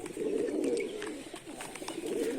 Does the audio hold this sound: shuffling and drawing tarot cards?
no